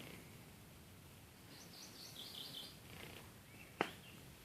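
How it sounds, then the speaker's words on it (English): Birds chirp faintly outdoors at a mountain campsite, a few thin high calls scattered over a steady low background hush, with one sharp click near the end. "You can hear the birds singing."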